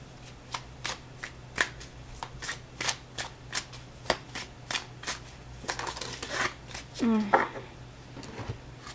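Tarot cards being shuffled and handled, a run of crisp flicking and riffling snaps near the mic, fairly quiet, with a short rustle near the end and no speech over it.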